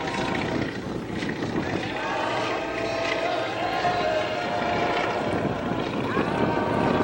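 A Beech 18 aircraft trailing smoke at an air show gives a steady, loud engine roar mixed with wind noise throughout.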